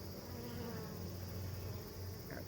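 Wasp buzzing among honeybees at a hive during a Langstroth to Layens conversion, a steady continuous insect drone with a low hum throughout, outdoors and moderately close.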